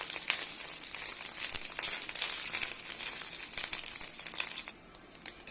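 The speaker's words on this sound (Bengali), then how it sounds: "এখানে মাছের ডিমটা ভাজা হয়ে গেছে" Pieces of fish roe frying in oil in a pan give off a steady, dense crackle that lasts throughout, close and fairly loud, easing slightly near the end.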